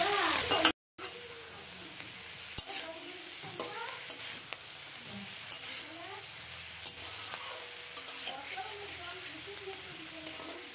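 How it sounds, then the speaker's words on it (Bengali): Bata fish fried crisp with onion flowers in a pan, a steady close sizzle with a spatula scraping and stirring throughout after a brief cut to silence near the start, while someone talks over it. "অল্প বাটা মাছ ভেজে নিচ্ছি, কড়া করে ভেজে নেব"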